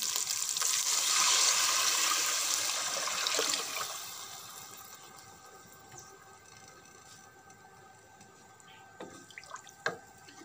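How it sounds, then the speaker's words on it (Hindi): One litre of water is poured into a pot of fried mince for mince pulao: a loud, rushing gush for about three seconds, then quieter kitchen background with a few light clinks near the end. "मेरे पास हाफ के जी से थोड़े से ज़्यादा चावल थे तो इसलिए मैं वन लीटर पानी ऐड कर दूँगी"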